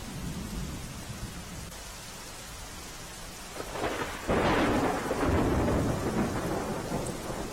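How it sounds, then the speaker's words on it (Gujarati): Heavy rain pours steadily in Dhoraji, Gujarat, with a dense hiss, and a deep rumble of thunder swells in the second half, loud and close. "ધોરાજીમાં ધોધમાર વરસાદ પડી રહ્યો છે"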